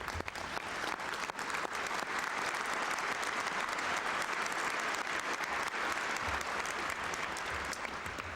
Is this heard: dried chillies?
no